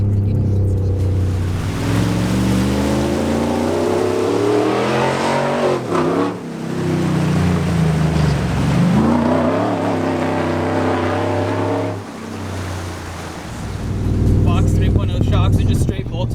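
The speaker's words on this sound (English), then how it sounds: "the supercharger whine, it's like it's asking for it" A modified supercharged 6.2L Ford Raptor truck engine revs up and down repeatedly at close range, with a rising supercharger whine riding on top of each rev.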